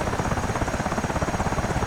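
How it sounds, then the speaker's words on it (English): A helicopter in the DCS flight simulator game gives off a loud, steady rotor thump with dense turbine whine, pulsing evenly throughout with no talking. "that helicopter will land, the crew will decamp, and the helicopter will disappear"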